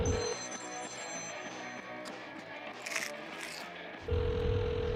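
A telephone ringing in a TV game show, with a steady tone at the start and again near the end, and a busier, murmuring stretch in between.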